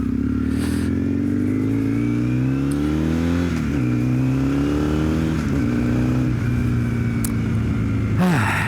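A 32-year-old Yamaha XTZ750 Dakar motorcycle engine drones loudly while riding on an open road, its pitch climbing steadily through the gears with brief dips at each shift, plus wind rush and a final sharp rev change.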